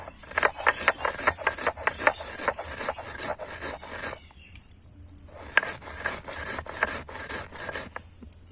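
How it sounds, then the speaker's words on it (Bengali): Fried rice being ground on a flat grinding stone with a stone roller, a rapid series of close, rhythmic rasping strokes that pause briefly midway before resuming. "মা শিলে ওই ভাজা চালটা বেটে নিচ্ছে।"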